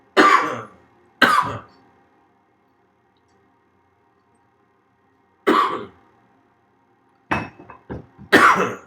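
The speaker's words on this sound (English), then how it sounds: "I'm coughing with excitement, guys." A man coughs in sharp, loud bursts: two quick coughs, a long pause, then another cough and a final cluster of several harsh coughs and throat-clearing sounds, close and alone without talk.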